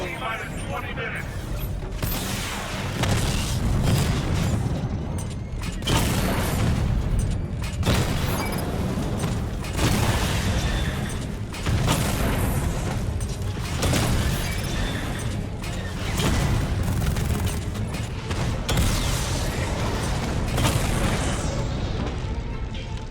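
Explosions and crashing impacts as a tank is destroyed in Batman: Arkham Knight, a loud continuous barrage of booms, bursts and mechanical clatter with repeated heavy surges over about twenty seconds, voices heard amid the action.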